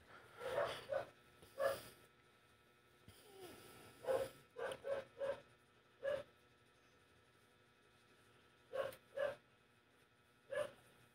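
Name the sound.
dog barking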